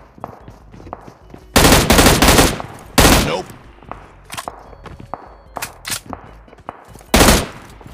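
Shotgun fire in the mobile battle royale game PUBG Mobile: a handful of loud, close, booming blasts spaced a second or more apart, with footsteps and small thuds in between.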